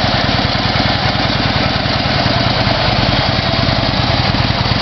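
A 2012 Harley-Davidson Dyna Switchback FLD with a 103 cubic inch engine runs steadily nearby, a loud, continuous low rumble with rapid pulsing firing beats and no voices.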